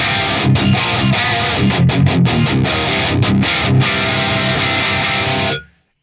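Heavily distorted electric guitar through a Fortin Nameless amp, recorded with a 57 on the cap blended with a 121, chugging palm-muted riffs with choppy stops, loud and close before cutting to silence at the end.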